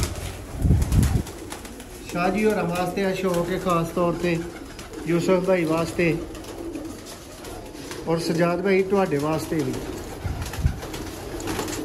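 Pigeons, including golden females and young birds kept for sale, coo softly in a loft, with brief wing flaps near the start and end, while someone talks over much of it.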